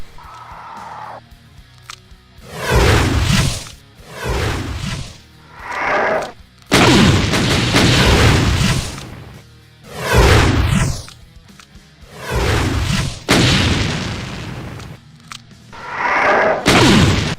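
Shoulder cannons on a Revenant Guardian in a Doom mod fire repeatedly, a series of loud, close booming blasts spaced a second or two apart, each with a harsh crackling decay, and no talking.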